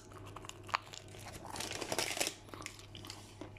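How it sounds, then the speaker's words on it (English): Bite into the crust of a homemade pizza, a short crisp crunch up close followed by a few quieter chewing crackles, faint and brief against a soft room hum. "bite the crust so you ponies hear if it's crunchy or not"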